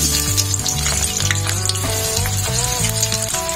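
Loud, steady sizzling of onions frying in hot oil, with crackling throughout and a faint musical tone underneath.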